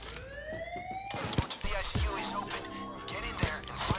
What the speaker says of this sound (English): As soon as you cut the wires, that's what sounds the alarm.